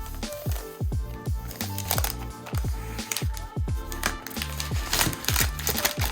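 Crinkly, crackling rustles of plastic and paper come in quick irregular bursts as a MacBook Pro M1 13-inch is unwrapped from its packaging, close and fairly loud with no talking.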